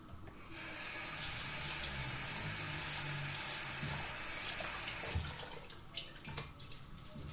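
Tap water runs steadily into a sink for several seconds, then stops, leaving wet sloshing and drips as grains are handled.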